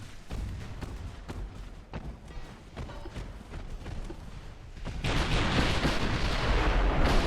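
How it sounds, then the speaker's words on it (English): Naval shellfire rumbles from a warship battle in Ultimate Admiral: Dreadnoughts, with rapid booming artillery blasts thumping continuously and then swelling into a louder, denser barrage of roaring explosions. "He's got a lot of armor-piercing shells coming in at me right now."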